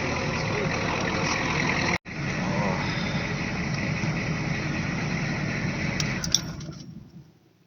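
A 1986 Ford F250 with a 6.9 IDI diesel runs steadily up close, a broad rough idle that cuts out for an instant partway through, then continues and fades near the end.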